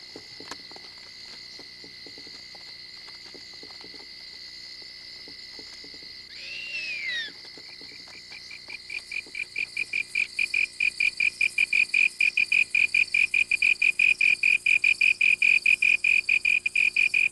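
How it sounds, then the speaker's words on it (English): Slender tree crickets chirp at night, a thin high trill that builds into a loud, steady run of rapid regular pulses, close by and alone with no voices. "magnifying the sound made by the slender tree cricket that shapes them"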